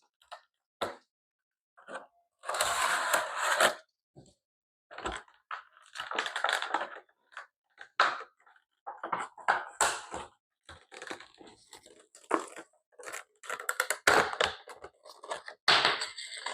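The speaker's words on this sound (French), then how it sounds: "ce que je vais faire, c'est que je vais vous la déballer et vous la présenter." A Funko Pop figure is unboxed from its packaging, with bursts of crinkling plastic, crackling and clicking handling noises scattered in irregular clusters, fairly close and with no talk.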